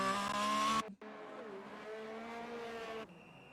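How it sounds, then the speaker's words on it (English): Race cars in a Japan round of a racing video game roar past with engine whine and tire squeal, one loud car cutting off abruptly before another steady pass fades out, with no talk over it. "I love hearing the cars go by."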